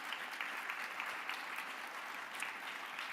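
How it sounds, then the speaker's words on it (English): Dense, even applause from an audience at an MLK Day celebration, continuous clapping throughout with no voices over it. "Let's give a round of applause to all of those who have come before us"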